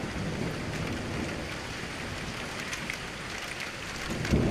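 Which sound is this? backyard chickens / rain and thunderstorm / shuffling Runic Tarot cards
rain and thunderstorm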